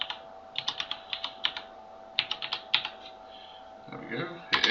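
A password is typed on a computer keyboard in quick bursts of close, crisp key clicks, a brief pause, then a final few keystrokes, with someone speaking briefly near the end.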